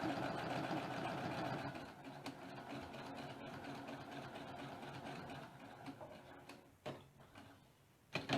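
A sewing machine stitches half square triangle quilt pieces, a soft, fast mechanical whir that runs steadily and close, then slows into scattered clicks and taps near the end.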